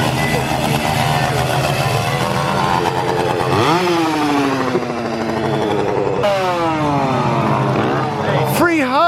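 A scare actor's chainsaw at a Howl-O-Scream haunted zone in Busch Gardens Tampa roars and revs with rising and falling pitch, loud and close amid crowd chatter and voices.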